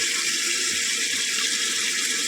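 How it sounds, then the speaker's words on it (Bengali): Water pours steadily from a tap into a pot of cooking chicken in a home kitchen, producing a continuous, loud, close hiss and splash with no pauses. "না জল দিচ্ছি"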